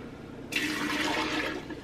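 Water pours into the hopper of a new lip gloss filling machine, a steady broadband rush that starts abruptly and holds loud and close without speech.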